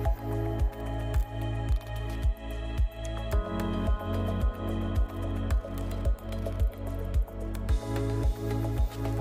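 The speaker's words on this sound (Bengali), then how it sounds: "আমি এই রকমভাবে বেসনটা ফেটিয়ে নিয়েছি, খুব ঘনও না খুব পাতলাও না" Gram flour batter being whisked by hand in a bowl, a steady rhythmic series of soft wet slaps repeating about twice a second, close and fairly loud, with no talk.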